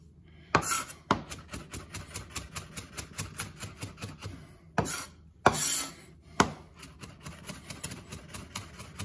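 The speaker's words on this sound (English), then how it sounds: "mince these up a bit" A razor-sharp Coolina Promaja chef's knife mincing on a cutting board: a steady run of quick, close taps with a few louder knocks and short scrapes, alone without talk.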